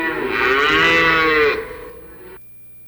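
Cow mooing in a car dealership radio ad, a single long, loud bellowing moo that swells and then fades before cutting off, heard alone with no talk.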